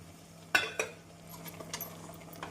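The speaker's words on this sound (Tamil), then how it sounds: "நாம் கொண்டைக்கடலை சேர்த்து நன்றாக மிக்ஸ் செய்ய வேண்டும்" Boiled chickpeas being stirred into chicken gravy in a pan, heard as two sharp spoon clinks against the pan followed by softer, scattered scraping and stirring noises over a low steady hum, fairly quiet and close.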